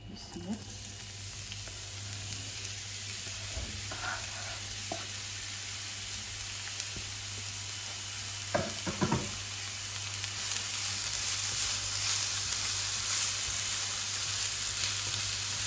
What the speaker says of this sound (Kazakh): жуамызды бір 3-4 минут майға қуырып аламыз